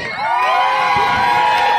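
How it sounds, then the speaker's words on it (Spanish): A wrestling event crowd cheers and shouts together in a brief, loud burst of massed voices with whoops, heard in an indoor arena. "Un grito para Isabel"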